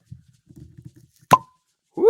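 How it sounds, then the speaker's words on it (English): A cork pulls from a bottle of Four Gate bourbon with one sharp, close pop after faint handling noises, followed by a brief voice. "All right, good cork pop."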